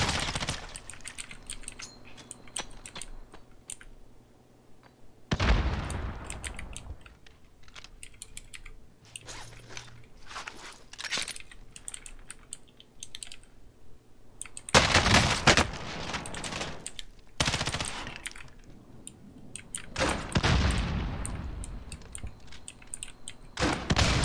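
Gunfire in the battle-royale video game Warzone, with rapid bursts of shots coming in several loud stretches over constant clicking from a keyboard.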